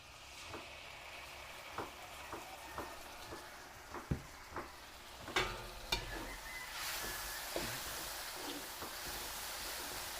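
Tomato sauce sizzling and frying in a hot pan for a Filipino kaldereta, a steady hiss broken by several sharp clanks of a utensil stirring against the pan, with no talking.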